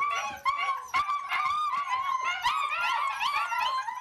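A litter of police dog puppies yips, whimpers and squeals in a busy overlapping chorus while being fed lunch, close by and continuous for several seconds without speech.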